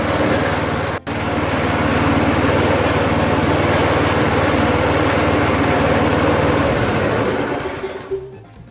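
A Powermate 18-inch rear tine tiller engine runs loud and steady inside a garage, a brief dip near the start, then the engine is shut off and winds down to quiet at the end.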